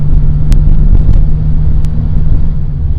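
A Ferrari Mondial driving, heard as a loud, close, steady low engine rumble and road drone from inside the car, with a couple of brief sharp clicks over it.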